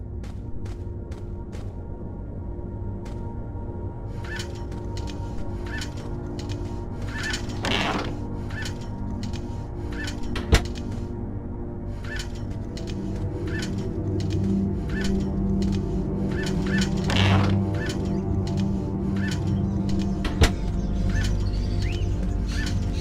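Caged birds chirp and flutter in Fahrenheit: Indigo Prophecy, with soft repeated calls and mechanical creaks over a low ambient hum.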